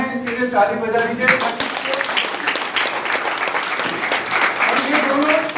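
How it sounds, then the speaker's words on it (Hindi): An audience applauds and claps steadily and fairly loudly throughout, a dense continuous patter with a voice briefly audible at the start. "इनके लिए ताली बजा दीजिए"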